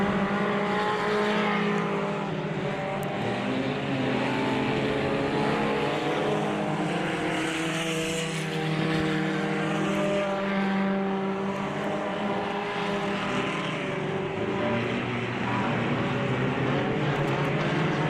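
Dirt track race cars in a heat race at Southern Ontario Motor Speedway roar steadily around the oval, a continuous loud engine drone with shifting pitch as cars spread out over the closing laps.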